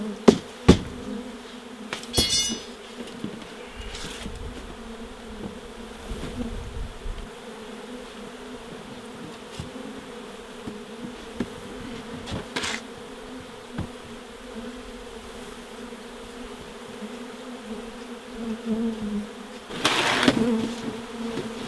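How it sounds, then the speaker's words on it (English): Honey bees from a hive cut out of a garage wall hum in a constant close buzz, broken now and then by brief knocks and scraping from handling the comb and frames. "That's a few nurse bees in there."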